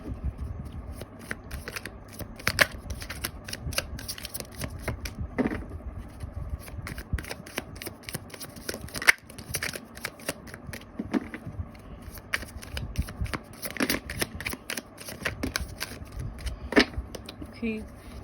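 Tarot cards being shuffled over and over, a steady papery riffling and snapping close by, with occasional sharper flicks and quiet talk underneath.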